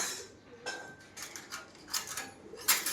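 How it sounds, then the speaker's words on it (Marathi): A spoon stirring milk into tea in a cup, a series of light metallic clinks and taps in an uneven rhythm, fairly close and otherwise quiet. "चमचा घेतला एक मी चहामध्ये दूध टाकून दिलं"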